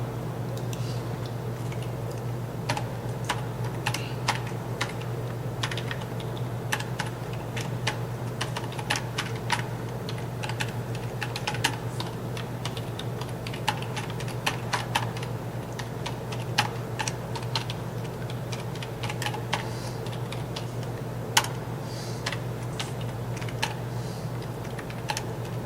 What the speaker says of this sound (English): you see that I'm a hunt and pecker